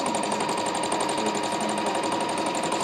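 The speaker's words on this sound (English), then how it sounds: "Free motion quilting, sewing wherever you want to sew." A Singer sewing machine runs steadily through free motion quilting, giving a continuous fast motor whir with a rapid needle chatter at an even level and no pauses.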